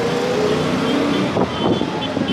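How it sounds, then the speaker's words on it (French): Busy street traffic in India, with a dense wash of cars, scooters and larger vehicles rumbling past close by, and a short honk-like tone and some voices in the mix. "Ah, cette circulation."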